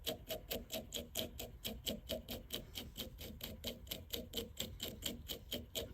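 A brush rakes quickly and repeatedly through synthetic fly-tying fibers on a striped bass baitfish fly, making a close, quiet, evenly paced series of scratchy strokes about four per second.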